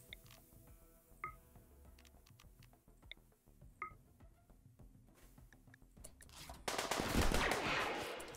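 Gunfire from a shootout in the video game RimWorld, heard as scattered sharp clicks and shots in short bursts, followed by a louder, dense rush of noise near the end.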